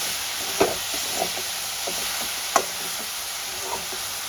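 Grated carrots frying in a pan for carrot halwa hiss steadily throughout, with a few soft, scattered taps of a spoon stirring them, alone without talk.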